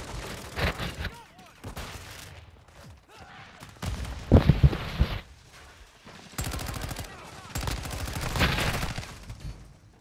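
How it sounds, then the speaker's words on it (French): Video game gunfire crackles in short automatic bursts and scattered shots, with a heavy thumping flurry in the middle, mixed with game sounds while someone speaks in French. "Je lui tire en plein dans le ventre"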